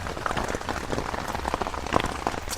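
Heavy rain patters steadily on surfaces at an island campsite, a dense close drumming with scattered louder drops and no voices.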